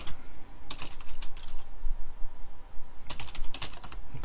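Typing a Twitter username on a computer keyboard: quick clusters of close key clicks in two bursts separated by a short pause, with no voices.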